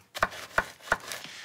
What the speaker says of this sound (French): Alors, les bananes, on veut les trancher, faire des rondelles.